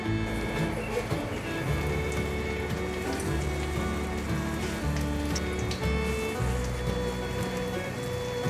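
Taro patties wrapped in tofu skin sizzle in a little oil in a non-stick pan, a steady dense crackle running throughout, with background music playing underneath.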